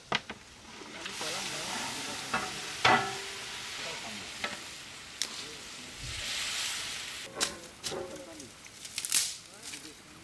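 Carp pieces go into a tomato curry and fry with a steady hiss and sizzle, with occasional sharp scrapes of stirring in the pan. Someone talks over the cooking.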